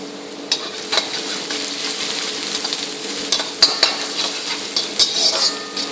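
Green chilli, garlic and ginger sautéing in a hot pan give a steady close sizzle, with scattered clinks and scrapes of a spoon stirring against the metal.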